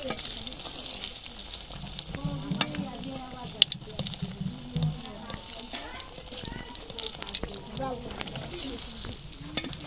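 A winter pitha cake fries in hot oil with a soft, crackling sizzle and occasional sharp pops and clicks, heard beneath someone talking for most of the time.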